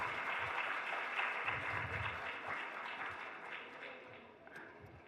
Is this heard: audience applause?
yes